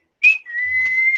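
A person whistles a short, clear tone that dips briefly then holds steady and slightly rising, close and alone with no talk.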